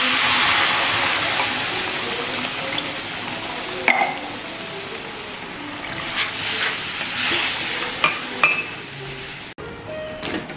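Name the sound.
water added to sizzling semolina upma in a pan, being stirred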